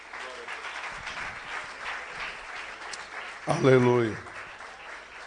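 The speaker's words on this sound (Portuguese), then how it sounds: "Você pode aplaudir o Senhor." Congregation at a church prayer seminar applauds in a moderate, continuous patter, and a voice cuts in briefly near the end.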